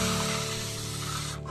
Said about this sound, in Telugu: దీని మీద ఇలా స్ప్రే చేసుకుంటూ ఉండాలి.